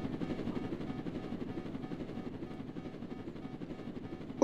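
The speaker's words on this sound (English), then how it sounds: "a military chopper just got cut down" A military helicopter in the Roblox game Jailbreak drones with a steady, throbbing rotor chop, alone and fairly loud for several seconds, ending in a sudden louder burst.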